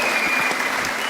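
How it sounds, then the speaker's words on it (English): A short burst of loud, dense applause from many clapping hands, even and sustained for about a second. "Give them a round of applause."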